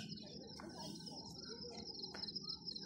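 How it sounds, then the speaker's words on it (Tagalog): Crickets on a mountainside chirp in a steady high trill over a low outdoor rumble, faint and continuous, with no one talking. "Lapit ka, maririnig mo yung kuliglig."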